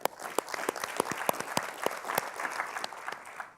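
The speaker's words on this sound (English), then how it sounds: "Round of applause for Raquel." Audience applause at a Hispanic leadership summit panel, a moderate spread of hand claps with sharp individual claps standing out, steady through the clip and tapering at the end.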